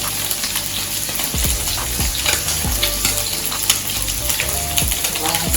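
Fish frying in hot oil for Jamaican escovitch fish, a dense continuous crackle and sizzle, close and fairly loud, with occasional low thumps and clinks in the pan.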